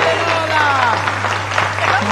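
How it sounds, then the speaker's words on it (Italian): A studio audience applauds at a New Year's farewell show, clapping heard under and between talk, with a steady hum and some musical tones running beneath the crowd noise. "Vogliamo l'applauso."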